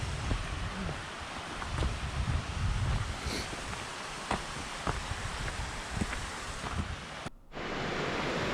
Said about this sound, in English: The river has many waterfalls along its length, with the severity determined by how much rainfall there has been.